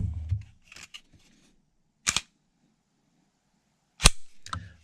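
Sig P320 pistols being cleared, with slides racked: a few sharp metallic clacks spaced about two seconds apart, close and crisp against an otherwise quiet room, with a brief handling rustle at the start.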